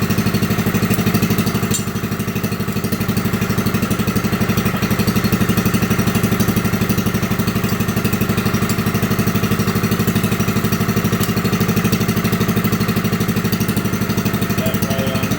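A 1964 Lincoln Weldanpower 150 engine-driven welder runs at a steady, loud mechanical drone with an even rhythmic engine beat, close by and uninterrupted.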